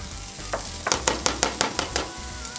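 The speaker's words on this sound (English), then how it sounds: "We're going to go ahead and put the onions in and sweat the onions down." Onions sautéing in melted butter in a pan give a steady sizzle close by, with a run of quick, sharp stirring scrapes in the middle.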